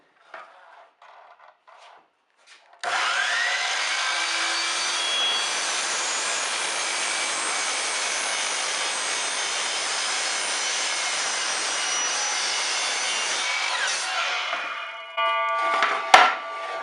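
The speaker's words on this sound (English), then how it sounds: "when you cut it with your saw, it does not chip out or anything" A power saw cuts through wood for a coat rack, starting abruptly after a quiet moment and holding a loud, steady whine for about twelve seconds before winding down, followed by a few clatters as the piece is handled.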